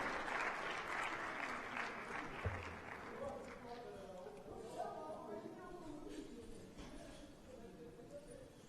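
An audience at an opening ceremony applauds as a speaker is welcomed, a broad wash of clapping that starts fairly strong and thins and fades over several seconds, with a faint voice underneath.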